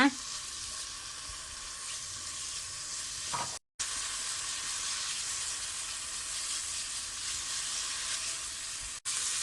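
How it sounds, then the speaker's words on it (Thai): Bacon and onion stir-frying in a pan, a steady loud sizzle with broadband hiss running continuously, briefly cutting out once before resuming. "เบคอนกับหอมใหญ่เริ่มสลบแล้วนะคะ ผัดจนหอมแล้ว"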